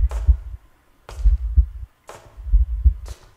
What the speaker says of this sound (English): I hear the heart pounding now